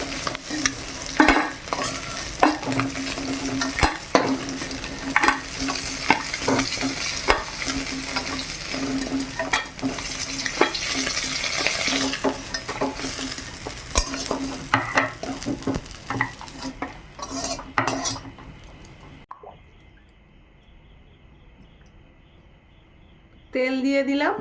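Crabs frying in oil in a pan, a steady close sizzle with frequent stirring and clinks of utensils against the pan, fading to near quiet before the sizzle briefly returns at the end.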